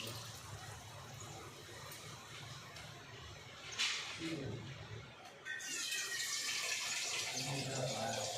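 Water pours over small-chopped raw mango for summer pickle, a steady splashing flow that swells and brightens partway through, with a brief quieter gap before it resumes fuller to the end.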